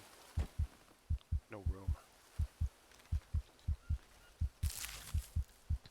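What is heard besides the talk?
heartbeat sound in the video game Green Hell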